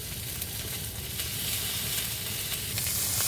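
Ginger paste hitting a pan of fried onion and garlic sizzles steadily up close, a continuous hiss that swells slightly toward the end while being stirred, with no voices.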